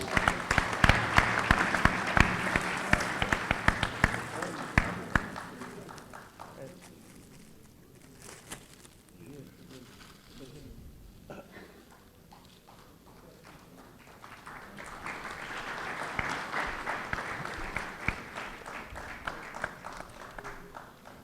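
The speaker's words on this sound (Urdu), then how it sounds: "رخسار کے لیے ایک بار تالیاں." An audience at a mushaira cultural gathering in Bahrain applauds Rukhsar. Dense clapping swells at the start, fades into a quieter stretch with talk, then rises again in a second wave of applause.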